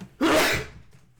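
A single sharp sneeze bursts out close by, abrupt and breathy, then fades quickly into quiet.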